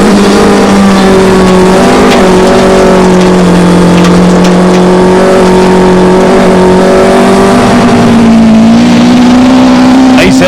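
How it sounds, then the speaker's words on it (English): A Nissan rally car at the 2001 Rally of South Africa screams at high revs, its note swelling and dipping through gear changes, loud and close and heard from inside the car. "There's no over-revving this engine."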